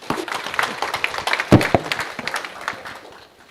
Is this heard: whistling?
no